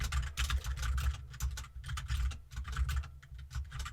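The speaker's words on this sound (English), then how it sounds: "While still typing down all the notes that the candidate provided, Tom then asks" Rapid, steady typing on a computer keyboard as notes are taken during a job interview, with soft close clicks and clattering keystrokes and no voices.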